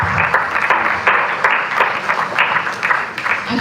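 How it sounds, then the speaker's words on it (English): Audience applause at the AMBIZERO 2.0 event, a dense, steady wash of many hands clapping throughout, loud and close with no talking over it. "Round of applause."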